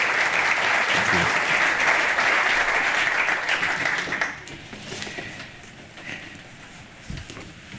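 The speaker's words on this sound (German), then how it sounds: "Herzlichen Applaus, Franz Rösli." A conference audience applauds to welcome a speaker, a dense loud burst of clapping that holds for about four seconds, then thins and fades to a few scattered claps.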